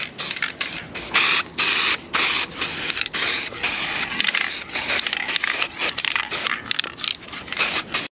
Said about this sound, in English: We're putting some primer on it, just so we've got a nice uniform color